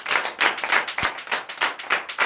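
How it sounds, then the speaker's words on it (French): A church congregation at a night deliverance service claps loudly in an uneven rhythm of hand claps, bursts rising and falling, close and without talk. "Donc je vous demande d'applaudir très fort."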